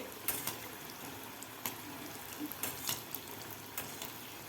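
Rice pakode frying in oil over a medium gas flame: a quiet, continuous bubbling sizzle broken by a few faint crackles and pops, with no one talking.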